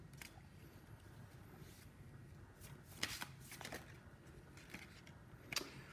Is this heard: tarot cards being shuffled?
yes